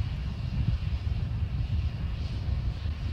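A SpaceX Starship rocket engine keeps firing during a hop test, a steady, distant low roar with a broad rushing texture, faint and continuous without breaks.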